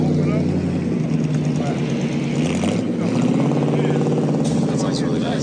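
An old police car's engine running at a Halloween Cars and Coffee meet in Los Angeles, a loud rough rumble throughout with crowd noise and chatter around it.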